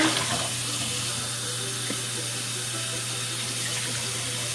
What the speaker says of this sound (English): Then I'm gonna get some hot water, about 6 to 8 cups of hot water